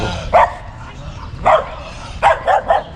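A dog barks loudly and close by, giving one bark, then another, then a quick run of three. Faint background sound fills the gaps between the barks.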